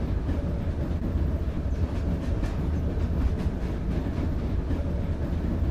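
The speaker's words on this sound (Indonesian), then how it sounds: "Kita masih berjalan di atas kereta." Train running on rails in a horror video game, a continuous low rumbling roll with faint rhythmic clatter, steady throughout and alone without talk.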